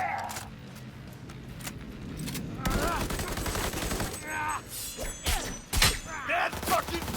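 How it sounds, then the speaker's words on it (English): Video game combat with a grenade explosion and gunfire: a thumping blast followed by rattling bursts of automatic fire and scattered shots over a busy game soundtrack. "Ooh, that's a grenade."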